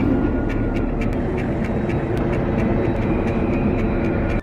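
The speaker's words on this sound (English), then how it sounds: "The plane begins to descend while the 2 trucks start matching its speed to balance it." A passenger airplane descends toward an emergency landing on a highway, its engines producing a loud, steady, dense roar that holds unbroken from start to finish.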